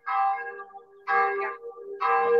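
Church bells ringing in three distinct loud, resonant strokes about a second apart, each with a ringing decay, heard alone.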